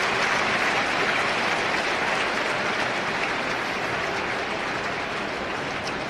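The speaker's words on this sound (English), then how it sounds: "the fans here give him a nice round of applause" Fans at a Major League Baseball game between the Chicago Cubs and Toronto Blue Jays applaud across the stadium, a dense, even wash of distant clapping and crowd noise that holds steady throughout.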